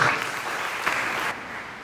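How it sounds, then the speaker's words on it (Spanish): A church congregation applauds during a Sunday service, giving a dense, steady wash of clapping that thins out near the end. "Denle un aplauso al Señor por eso."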